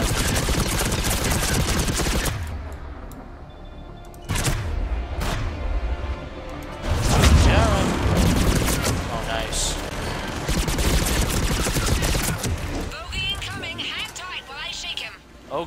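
Assault rifle fire in Mass Effect 3 aimed at husks, dense rapid bursts and a heavy blast amid a chaotic battle, with a player talking over much of it.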